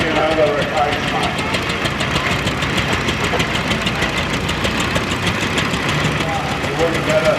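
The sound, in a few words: pre-1930s vintage tractor engine running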